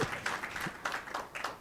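Audience applause for Dr. Mahulu at a ceremony for a donation of medical equipment to the Government of Namibia: a short, fairly quiet burst of clapping from a modest crowd, slightly uneven and steady throughout.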